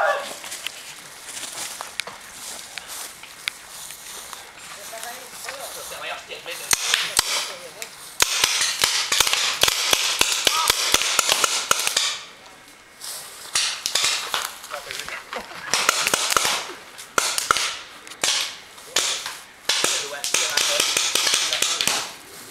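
Paintball guns firing during an outdoor game in the Basque Country: sharp snapping shots in scattered bursts and rapid strings, some close and loud, with people talking and shouting in between.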